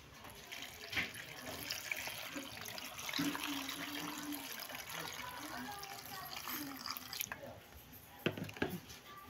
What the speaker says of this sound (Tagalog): Lalagyan po natin ng tubig.